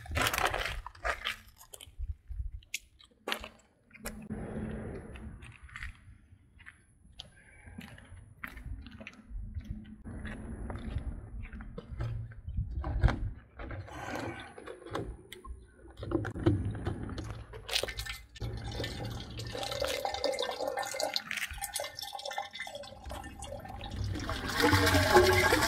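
Waste water drains from an RV holding tank through a hose after the valve is opened, a steady gurgling rush with sloshing and splashing that grows fuller and louder toward the end.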